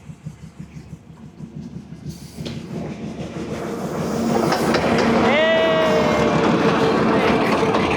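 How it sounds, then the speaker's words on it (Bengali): A train approaches and crosses a bridge, its rumble and clickety-clack building steadily louder until it roars close by, with a brief wheel squeal or horn-like tone partway through and some voices faintly in the background. "ওই পাশে অপোজিটে দেখো ট্রেন আসতেছে"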